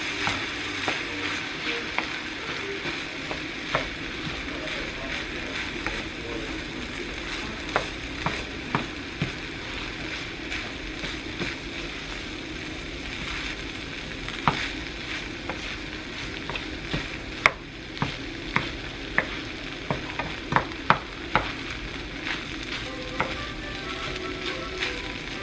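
Food fries in toasted sesame oil in a pan with a constant sizzle, while scattered clicks and scrapes from stirring and utensils come through throughout, with no talking.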